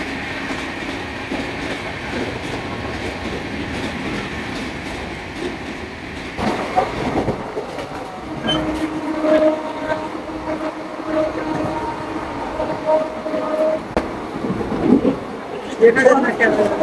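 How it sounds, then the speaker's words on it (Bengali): A train approaches and passes near Murshidabad, West Bengal, with a steady rumble, wheel clatter and a horn sounding, growing louder toward the end while voices are heard nearby. "ট্রেন আসছে।"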